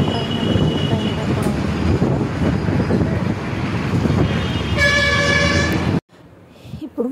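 At a railway station in Vijayawada, a train rumbles loudly and steadily nearby with grinding wheel noise, a horn-like tone sounds near the end, and the roar then drops suddenly to quiet.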